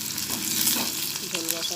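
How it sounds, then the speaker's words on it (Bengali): Sliced okra (bhindi) frying in a pan for a fish curry, steady loud oil sizzle throughout, close up, with faint stirring. "এবার ভেন্ডি ভাজাটা হচ্ছে।"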